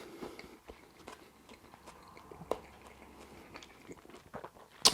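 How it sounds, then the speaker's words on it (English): Crunchy chewing of chicken lettuce wraps with cashew nuts, carrots and tender chicken, a close, fairly quiet run of bites and crunches with a sharper crack near the end. "the second thing you notice is the crunch from the cashew nuts"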